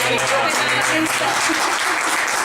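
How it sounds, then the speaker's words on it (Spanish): Steady, dense applause from a writing workshop audience fills the whole stretch, loud and continuous without pauses. "un aplauso"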